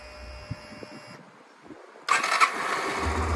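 A small engine on a 2013 Yamaha YBR125 Custom motorcycle cranks briefly, falls quiet, then fires up and settles into a steady running sound.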